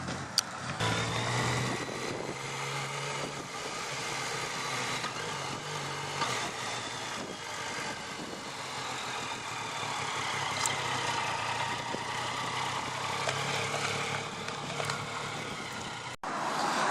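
Yamaha FJ-09 Tracer motorcycle riding in its relaxed B mode, a steady engine drone mixed with broad wind rush, constant and fairly loud throughout with no clear revving.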